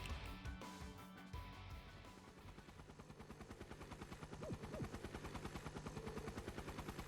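The flying archaism aircraft in Trails of Cold Steel IV approaches with a rapid, rhythmic helicopter-like rotor chop that grows steadier and louder, mixed with game effects, and no talking.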